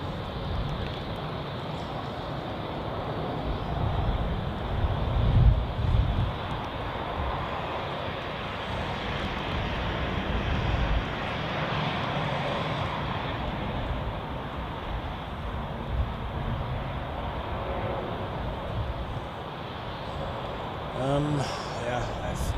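A passenger airliner at Zurich Airport sends out a broad, steady rumbling roar that stays fairly loud and even throughout, with wind noise and a few handling bumps from a nearby outdoor microphone.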